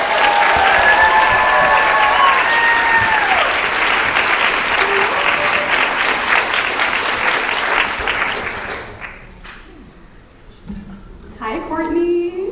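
A panel audience welcomes a speaker to the stage with loud, sustained applause that fills about nine seconds, then fades away before a voice begins speaking near the end.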